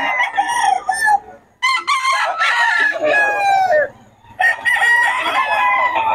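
Lemon Sweater gamefowl rooster crows loudly and close by, with several strained crows and clucks in a row and people talking nearby.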